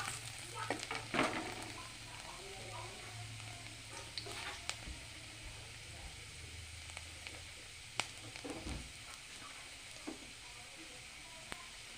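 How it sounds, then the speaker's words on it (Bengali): Chopped ginger and garlic frying in a pan for egg chilli sizzle steadily while a spoon stirs and scrapes, with occasional sharp taps against the pan, close and moderately quiet. "এখন আমি দিয়ে দেবো আদা কুচি রসুন কুচি দিয়ে ভালোভাবে নাড়াচাড়া করবো"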